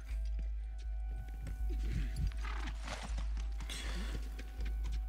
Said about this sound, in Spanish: trae el caballo